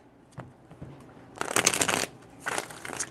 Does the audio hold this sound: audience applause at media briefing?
no